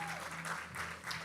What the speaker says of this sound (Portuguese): As palmas, engrandece o nome do Senhor